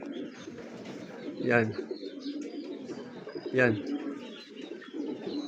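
Racing pigeons coo twice in low throaty bursts at a loft in Tarlac, with faint bird chatter and someone speaking over the calls.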